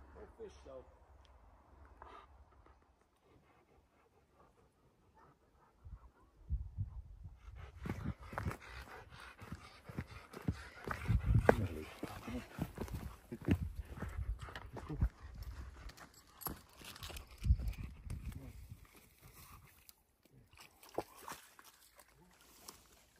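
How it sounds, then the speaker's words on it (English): A dog swimming in a lake on a camping trip, with close, rhythmic splashing and panting that starts quietly and grows louder and busier in the second half, dominating the scene. "There's Luna swimming the doggy paddle"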